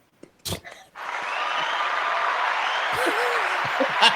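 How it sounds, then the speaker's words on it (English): A recorded applause effect plays at a softball introduction, a steady wash of clapping that rises after a brief sharp noise and holds to the end, with voices briefly audible. "play the sound, play the claps"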